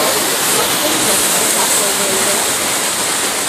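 Waterfall water pouring in a river near a hotel, a steady broadband rush of falling water filling the whole clip at constant loudness with no breaks.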